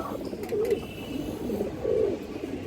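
Indian high flyer pigeons, Kaldam and Giribaz birds at a farm, coo in close, rolling phrases, two clearer bursts rising out of a steady low murmur.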